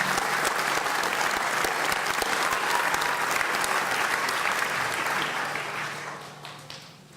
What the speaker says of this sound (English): So please join me in another round of applause for the MISM and MSISPN graduates.